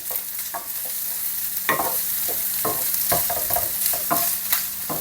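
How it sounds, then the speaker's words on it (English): Spam fries in a pan with a constant hissing sizzle, broken by repeated scraping strokes of a utensil stirring and turning the pieces, close and clear with no talk. "we're going to fry this off until the outside goes a little bit brown and crispy on the outside"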